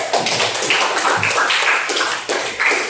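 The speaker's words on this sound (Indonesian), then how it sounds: "Tepuk tangan kalian." An audience at a motivational talk claps together in a dense, continuous round of applause, close and fairly loud, with no talking over it.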